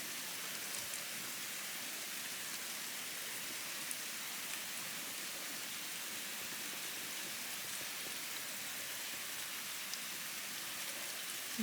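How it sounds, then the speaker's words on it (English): Steady, soft rain hissing evenly throughout, with faint scattered drops and no voices. "Can you see the rain?"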